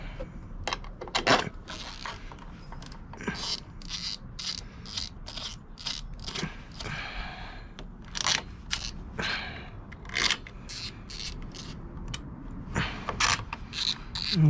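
A ratchet clicks in quick bursts as M8 clutch spring bolts are driven into a Honda Grom, with repeated close, sharp mechanical ratcheting separated by short pauses, and no talking.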